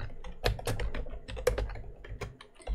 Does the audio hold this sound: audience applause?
no